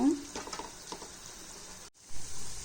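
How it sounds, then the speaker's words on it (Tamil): Wheat badusha frying in oil on a low flame makes a soft, close sizzle that runs steadily, with a brief dip partway through. "சிம்லேயே வச்சு அப்படியே கொஞ்சம் நேரம் ஃப்ரை பண்ண விடுங்க"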